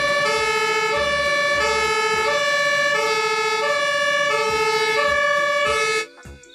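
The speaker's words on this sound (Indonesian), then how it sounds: "di sini ada truk pemadam kebakaran." A toy fire truck's electronic siren plays loud and close, a repeating two-tone wail cycling steadily for about six seconds before cutting off abruptly.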